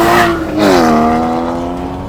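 Two cars, a Renault Clio 2 and a Porsche GT4, accelerating hard in a drag race: a loud, close engine note rising in pitch and holding a strained rev with no talk over it.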